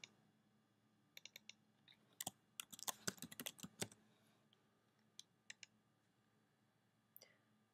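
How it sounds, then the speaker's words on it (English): Short bursts of keystrokes on a computer keyboard as a worksheet is given a new name, soft and close, with scattered clicks, a quick cluster in the middle and a few isolated taps near the end. "I'm going to rename this worksheet by double-clicking on the tab and entering a new name."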